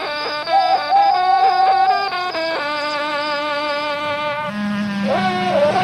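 A buzzing bee, steady and close, with a thin whining drone that shifts pitch as it moves about, heard alone and fairly loud throughout.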